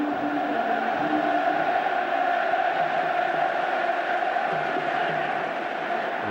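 Steady roar of a large football crowd taunting George Graham at Leeds United versus Spurs, a dense continuous chanting wash from a distance with no breaks.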